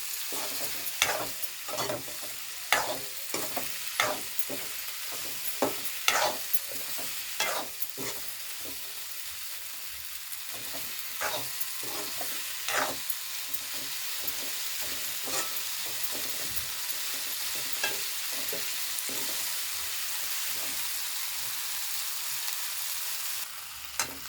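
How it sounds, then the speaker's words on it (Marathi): Okra and dried prawns fry in a pan, a steady sizzle punctuated by repeated scraping stirs of a spatula, close and continuous for over twenty seconds. "आपले हे भेंडी आणि सुकी कर्दी आपण टाकलेली आहे"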